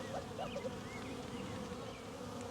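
A steady, quiet drone of many honey bees buzzing from a newly installed bee package, continuous and close, with faint higher whines of individual bees drifting through.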